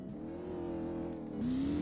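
A McLaren with a 274 mph top speed brakes and turns in Roblox Driving Empire, its engine humming steadily, then dropping in pitch and climbing again as it pulls away.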